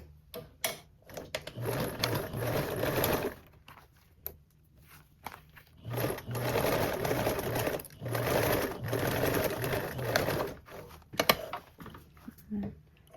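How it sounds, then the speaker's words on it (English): A sewing machine stitches a 3/8 inch seam in bursts of steady rapid whirring, separated by pauses with small clicks and handling sounds, fairly close. "And then sew with a 3/8 seam allowance"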